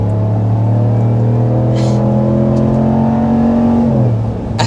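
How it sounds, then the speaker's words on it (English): A 2026 RAM 1500 Big Horn HEMI V8 engine revs up with a deep, throaty rumble that climbs steadily in pitch, then briefly drops, loud and close. "You can tell by the sound. The HEMI V8 is the real deal."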